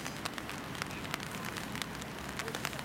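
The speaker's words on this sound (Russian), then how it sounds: "Опять пошел дождь" Steady rain falling outdoors at a football match, a dense even hiss with scattered sharp drop taps throughout, fairly close and continuous with no voices.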